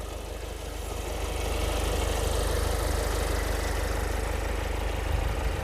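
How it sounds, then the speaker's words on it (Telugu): A 2022 Kia Carens diesel engine idles with a steady, even clatter that swells slightly after the first second and then holds constant and close, with no voices. "Diesel engine sir."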